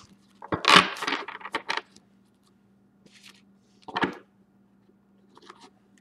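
Large tarot cards are shuffled by hand in short bursts: a dense flurry of papery riffling and clacks, then a few quieter, separate shuffles. A low steady hum runs beneath them.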